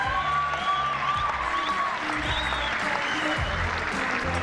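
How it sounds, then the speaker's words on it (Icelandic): An audience at an Icelandic stallion show claps steadily for the riders, sustained applause with scattered whoops and a few voices in the crowd. "Og klappið þið sérstaklega fyrir Helga Þór"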